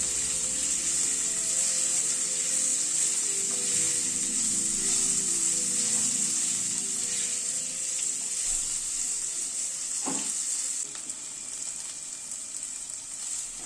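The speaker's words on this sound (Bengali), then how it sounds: "নুন হলুদ দিয়ে আলুটাকে একটুখানি ভেজে নিচ্ছি।" Potatoes frying in oil with salt and turmeric for a breakfast dish give off a steady, close, even sizzle throughout, with one brief stirring clatter near the end and no talking.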